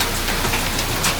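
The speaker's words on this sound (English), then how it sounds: "we got some pretty good sized hail coming down" Dense, loud hail falls on an off-grid homestead, a continuous roaring patter of pellets striking surfaces close by, with no voices.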